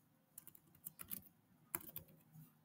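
Computer keyboard typing, a quick run of soft, close key taps in two short bursts with a brief pause between, faint and quiet.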